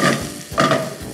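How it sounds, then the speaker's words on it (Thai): Garlic frying in a wok over high heat for a Chinese-style mixed vegetable stew, with a loud, dense sizzle and stirring scrapes that swell twice in close, continuous bursts. "เจียวกระเทียมให้พอหอมเหลือง"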